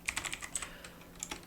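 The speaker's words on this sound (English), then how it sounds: "And we just want to do that by typing current underscore index" Quick keystrokes on a computer keyboard while code is entered, about a dozen light clicks in uneven bursts, close and clear with no talking.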